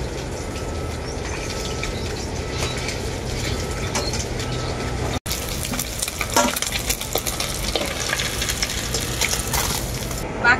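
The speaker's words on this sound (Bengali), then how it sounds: "বাকি মাছগুলো আমি একইভাবে ভেজে নেব।" Tilapia fish fry in hot oil with a loud, continuous crackling sizzle, briefly cut off once, then resuming with some stirring and clattering.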